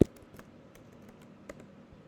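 A few scattered keystrokes click on a computer keyboard as an address is entered. The taps are soft and sparse, with one sharper tap at the start, and no one speaks.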